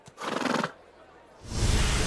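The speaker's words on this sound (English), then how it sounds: "I like the horse noise." A horse neighs in the video game Pathfinder: Wrath of the Righteous, a loud, close whinny lasting about half a second, followed by a brief lull and then a burst of broad noise.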